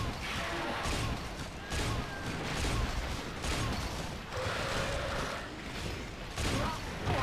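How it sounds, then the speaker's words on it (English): Heavy bowgun shots in Monster Hunter 4 Ultimate, a series of sharp blasts and mechanical clanks repeating irregularly through a busy hunt, with the game's ambient sound between the shots. "should not take much longer with a few shots from this heavy bow gun"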